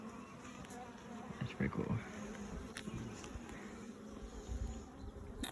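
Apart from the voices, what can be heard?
honeybees buzzing during beehive inspection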